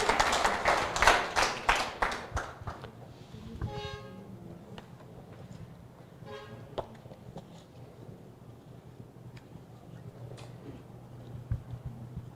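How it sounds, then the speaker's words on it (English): A burst of clapping from a small group starts loud and quickly fades, leaving scattered claps over a low hum. "Give him a very big round of applause."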